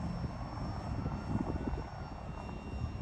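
A UMX F86 RC model jet makes a slow pass into a strong headwind, giving a steady, fairly loud electric ducted-fan whine with a broad rushing roar and no talk.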